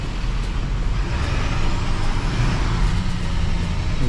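A lifted 2023 Chevy Silverado 2500HD with a 6-inch Zone lift kit pulls out, its engine giving a steady, loud low rumble with a faint hiss on top, close by and without talk.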